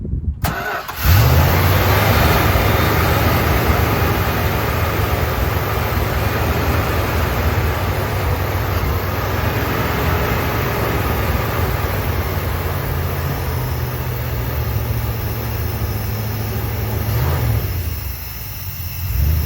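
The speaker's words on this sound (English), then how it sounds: "Let's see if you turned up the idle, it might just fire up." A 1972 Dodge W200 Power Wagon engine cranks and fires after years unused, then settles into a loud, steady, rough idle with the high idle cam engaged, close up and running continuously until a dip near the end.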